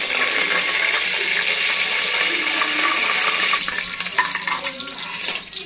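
Cumin seeds, peanuts, bay leaf and curry leaves sizzle in hot oil for a Khandeshi khichdi, a loud, steady, bright hiss that turns more crackly and uneven toward the end.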